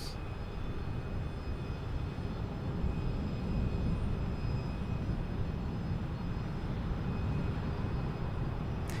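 A British Airways airliner at Portland airport in Oregon is heard as a steady, low, rumbling jet roar at a distance, continuous and fairly faint, with no talk over it.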